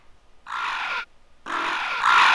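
Two loud raspy crow caws ring out in the video game Dead Rising, the first short, the second longer and harsher after a brief pause, close and clear against near silence.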